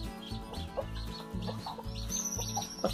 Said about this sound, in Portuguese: Pode ficar duas galinhas no ninho só não.